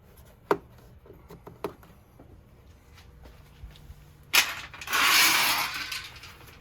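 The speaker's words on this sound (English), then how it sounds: "Pushing lock clips" Plastic lock clips are pushed in by hand while fitting a Kleinn 730 Demon train horn kit near a vehicle's grille, giving a few sharp close clicks and snaps, then a longer rustling scrape.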